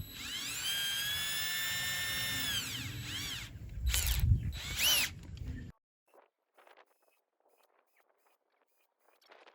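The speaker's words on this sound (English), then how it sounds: "is to drill a whole bunch of holes." A power drill bores holes in a plastic bucket, whining steadily and then rising in pitch for two short bursts before it stops. Faint handling clicks follow in near silence.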